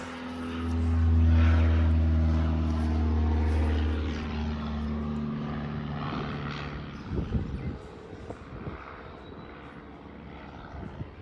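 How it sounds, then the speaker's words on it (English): A propeller airplane drones overhead above a garden, loud and steady through the first few seconds and then fading away into quiet outdoor ambience with a few small rustles. "There is a plane interrupting the video"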